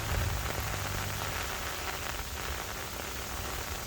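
Heavy rain pours down during a storm over a rice paddy, a dense, even hiss of drops on water and ground that stays steady and close for the whole stretch.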